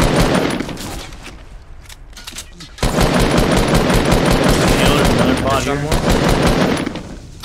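Rapid bursts of Fortnite gunfire crackle through a pro scrims match, a quieter stretch giving way to loud, dense automatic fire that continues steadily, with a player talking over parts of it.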